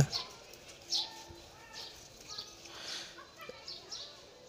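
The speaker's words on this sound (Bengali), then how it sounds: "দুইটা পাখি এখন ভিতরে আছে পাতিলার মধ্যে" Two birds coo softly inside a cooking pot used as a nest, low repeated calls with a few chirps and possible wing flutters, quiet and close, with faint voices in the background.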